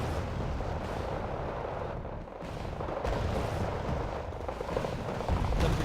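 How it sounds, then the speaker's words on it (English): Mortar fire in the war strategy game Wargame Red Dragon rumbles continuously, with heavy overlapping booms and distant blasts forming a dense, loud barrage without pause. "A lot of mortars here."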